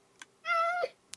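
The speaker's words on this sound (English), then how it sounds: "Oh, he meows." A single clear meow from a cat in Minecraft, a short tonal cry lasting under half a second, with faint clicks just before and after and no talk.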